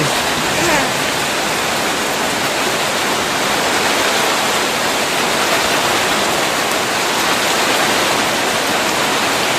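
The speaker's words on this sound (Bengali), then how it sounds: "বুঝছো কি পরিমাণ বৃষ্টি হচ্ছে?" Heavy rain pours down in a dense, unbroken hiss, loud and even from start to finish with no voices.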